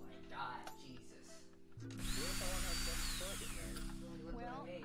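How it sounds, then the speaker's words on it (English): A power drill whirs steadily over a droning background, running continuously with shifting pitch while a person talks and music or game sound plays through a livestream. "The drill turns on when someone subscribes."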